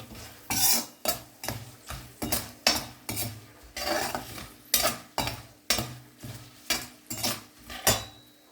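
Mango pieces fry in a pan with turmeric powder while a metal spoon stirs and scrapes against the pan in steady, regular strokes over a soft sizzle.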